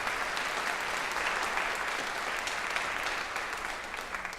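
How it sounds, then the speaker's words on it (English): Crowd applause for a jazz band at an all-county school concert, a sustained, fairly loud wash of many hands clapping together throughout. "Let's give another round of applause for Mr. K and this awesome band."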